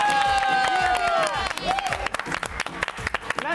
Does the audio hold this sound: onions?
no